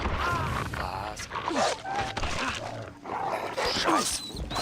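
Dog barking and yipping in the video game Far Cry 3, repeated agitated barks close by amid busy game noise, with voices talking over it.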